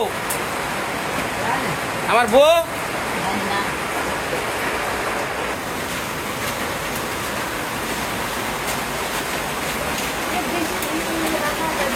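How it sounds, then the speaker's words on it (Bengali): Heavy rain pours down steadily at night outside a Bangladeshi village home, a dense continuous wash with a voice speaking briefly over it early on. "কি বৃষ্টি নামছে রে।"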